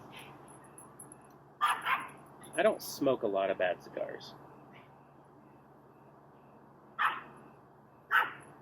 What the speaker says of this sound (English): they just run up and down and bark at each other on the fence